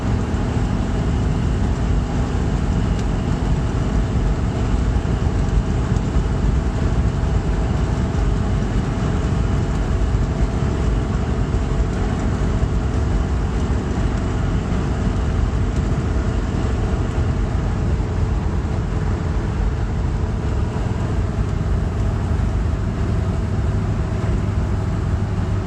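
Inside a 1978 Dodge Ramcharger full-top convertible cruising at 65 mph, a constant loud roar of engine, wind and road noise fills the cab steadily without a break, and no one speaks.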